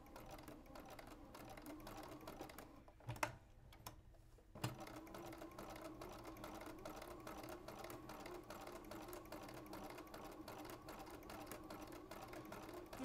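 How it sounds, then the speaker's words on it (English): A sewing machine stitches a quilt seam with a steady, rapid mechanical whir, briefly pausing and restarting partway through, fairly quiet and close. "Put your foot down and you're going to begin sewing, making sure your edges are lined up"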